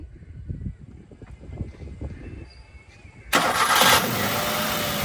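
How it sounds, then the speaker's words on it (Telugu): Quiet shuffling and small knocks, then a 2018 Maruti WagonR Lxi petrol/CNG car engine cranks and catches on a single start, settling into a loud, steady idle. "ఇప్పుడైతే మీకు ఒకసారి వెహికల్ స్టార్ట్ చేసి చూపిస్తాను, చూడండి."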